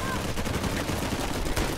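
Pistol fire in the Uncharted 4 video game: a quick burst of sharp shots over busy background combat, with some talking underneath.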